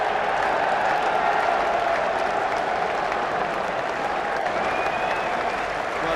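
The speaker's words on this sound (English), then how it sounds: "he's got a handsome applause because he deserves it" A cricket crowd at a Lancashire match applauds a departing batsman, a dense, steady wash of clapping that stays loud and even throughout, with no commentary over it.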